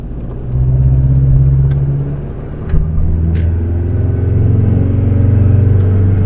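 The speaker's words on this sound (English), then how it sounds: "Yeah, it's not an engine to rev." A Mitsubishi Delica L400 van's engine drones steadily while driving on a wet day, a loud, close low rumble with gently shifting pitch and a brief knock midway.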